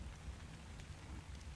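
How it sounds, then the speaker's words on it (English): Steady rain pours through a cold desert night in the video game Ark: Survival Evolved (Scorched Earth), a continuous close hiss of drops with a deep rumbling underlayer and no voices. "as we survive in the rainy, cold night of the desert"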